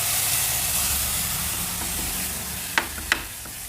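Ground rasam spice paste sautéing in a pan with mustard seeds and curry leaves, giving a steady bright sizzle and hiss throughout, with two sharp clinks of a spoon against the pan near the end.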